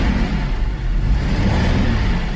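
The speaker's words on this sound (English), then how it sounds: "Now, this engine is running decently rough at an idle." A Cadillac STS engine with a faulty mass airflow sensor runs rough, a loud steady close drone with slight unevenness and no talk over it.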